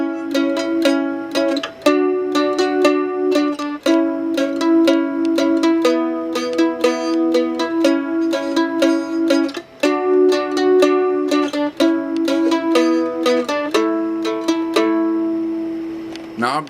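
Mandolin playing the bluegrass tune Boil That Cabbage Down with double stops, bright plucked notes in a steady rhythm, close and clear with no other sounds.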